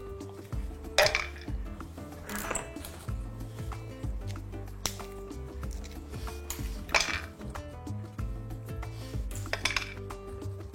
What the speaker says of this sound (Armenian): Մի մասը սրա մաքրում լցնում ենք հարիչի ամանի մեջ